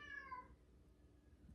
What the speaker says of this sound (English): you have heard my kitties coming in